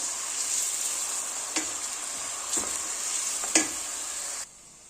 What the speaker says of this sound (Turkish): soğanlarımı tencereme alıyorum ve güzelce yumuşayıncaya kadar kavuracağım